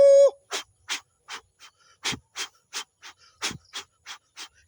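A human voice imitates an approaching steam train on a small-gauge line, starting with a whistle-like tone and then rhythmic, breathy chuffs that repeat steadily and close.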